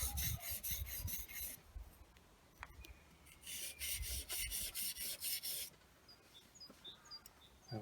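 A blade held flat is rubbed backwards and forwards over a sharpening surface to take the burr off its back edge. It makes two close bursts of rhythmic rasping strokes with a quiet gap between them, and faint birdsong outdoors behind.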